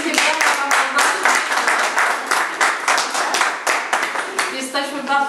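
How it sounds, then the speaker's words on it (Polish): Applause at a press conference for the Świdnica Half Marathon, dense and steady from many hands for about five seconds, with voices rising near the end. "Ja proponuję wielkie brawa Panu Małgosiu."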